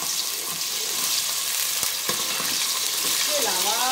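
Ginger garlic paste fries in a hot pan with a constant bubbling sizzle, close up, with occasional stirring clicks.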